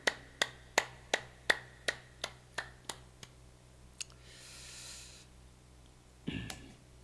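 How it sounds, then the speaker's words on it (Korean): At a church Sunday service, the congregation claps to bless the children: about ten sharp, evenly spaced claps in a steady beat, fairly quiet and fading, followed by a soft rustle and a low thump. "우리 박수로 자녀들 축복합니다."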